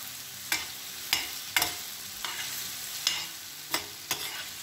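Tomatoes, olives and anchovies in hot oil stirred in a pan, a soft steady sizzle broken by about seven sharp scraping strokes of the utensil at irregular intervals.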